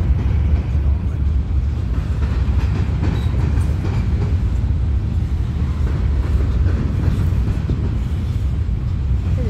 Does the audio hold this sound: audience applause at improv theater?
no